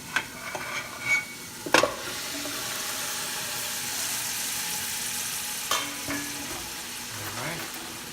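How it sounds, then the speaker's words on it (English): Beef and garlic sauteing in a pan, a soft steady sizzle with a few clinks and scrapes of stirring, no talking. "Saute this for 30 seconds. Gonna put our beef."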